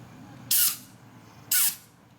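Compressed air from an air line blasts out a part during repair work on a 1988 Harley FXR, two short, sharp hissing bursts about a second apart, loud and close, with quiet between them.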